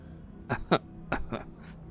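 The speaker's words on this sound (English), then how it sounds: "He coughs gently." A man gives a few gentle, hoarse coughs, four or five short throaty bursts in quick succession, close and fairly quiet, with nothing else heard.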